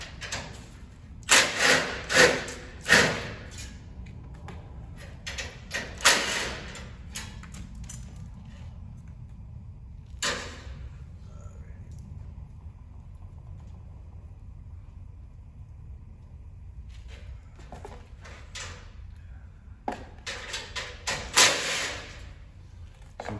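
Socket wrench loosening bolts on a metal shipping crate for a VITACCI Venture 200 EFI full-size go-kart: bursts of rapid ratcheting and scraping early on and again near the end, with a quieter stretch between.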